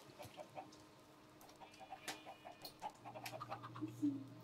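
Chickens in the Minecraft video game cluck in short, scattered bursts over a quiet background, and the clucks come faster and closer together toward the end.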